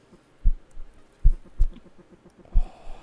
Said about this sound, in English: You can hear my heart beating intensely.